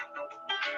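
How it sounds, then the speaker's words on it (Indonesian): A phone ringtone plays briefly indoors, a quiet melodic electronic tone with bright harmonic notes, heard alone for under a second. "Bentar saya ada telepon sebentar."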